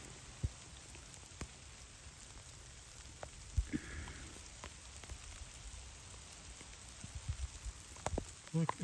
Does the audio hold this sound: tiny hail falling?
yes